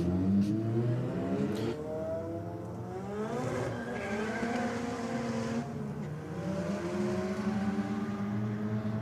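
A Honda and a Corolla launching in a drag race with heavy wheel spin, engines revving and tires squealing continuously at mid distance with no talk.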